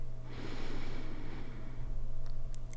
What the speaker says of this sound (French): Fermez les yeux et focalisez-vous sur votre respiration. Inspirez,